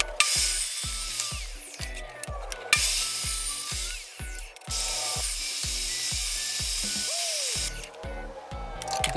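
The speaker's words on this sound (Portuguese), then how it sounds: "Depois que eu cortei essa madeira, eu vou unir todas as peças." Power tool cutting used wooden boards for a homemade driving-simulator cockpit, with loud bursts of whining, hissing cutting noise separated by a steady run of rhythmic low knocks and ticks, close up and without talk.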